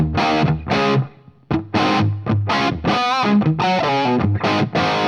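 Distorted electric guitar played through a Tone King Imperial preamp into a Marshall JMP amp, with a touch of reverb: loud chopped chords and short riffs with brief gaps, ending in sustained ringing notes.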